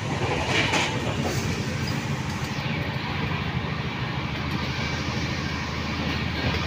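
The Rajdhani Express from Howrah to New Delhi rumbles and roars steadily at speed past Bardhaman toward Durgapur, a loud continuous clatter of wheels on rails with no voices.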